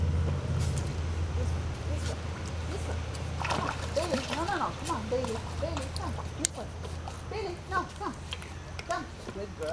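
A Pembroke Corgi dives and splashes in a swimming pool, with an early splash followed by a stretch of choppy water sounds and paddling. People talk and cheer excitedly over it.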